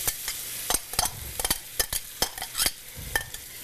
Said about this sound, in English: We're gonna do this on high heat. Okay. At that very moment, I'm throwing these mushrooms in.